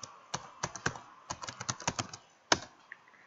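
Quick bursts of clicky keystrokes on a computer keyboard, tapped in short irregular runs with a pause and one final sharp key near the end, close and fairly quiet.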